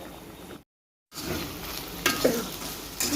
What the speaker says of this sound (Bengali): জল ঝোলটা ফুটে উঠেছে এখন আমি কিছুক্ষণ জাল করে নেবো